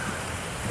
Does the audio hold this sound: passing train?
no